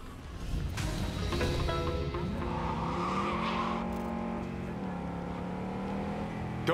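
A car driven in Cyberpunk 2077 revs hard with a steadily rising and falling engine whine, tires squealing at times, loud and continuous for several seconds with no voices.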